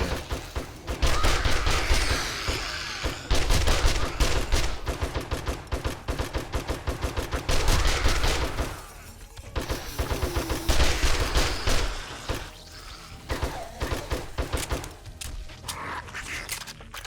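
Video game gunfire in 7 Days To Die, snowy factory raid against zombies, with rapid automatic bursts and single shots loud and close. Volleys are sustained and dense, with brief lulls between the salvos.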